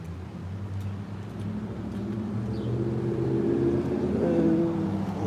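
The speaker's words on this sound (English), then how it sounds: "Loud truck behind me, this whitey turning behind me, and another car driving by me at the same time" Traffic on a city street: a loud truck rumbles behind while a white car turns and another car drives past, engine noise swelling steadily and peaking near the end, close and continuous.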